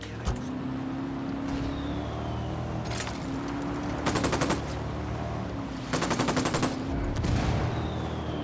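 Gunfire in the video game Ghost Recon Wildlands, two rapid automatic bursts and a few single shots over a running vehicle engine, loud and close, with no talk.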